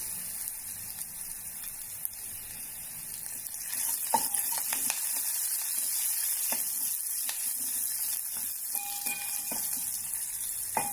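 Curry leaves hit hot oil already cooking ginger and garlic for a buttermilk curry, producing a bright, crackling sizzle that swells louder partway through and keeps going steadily, with scattered pops and stirring clicks.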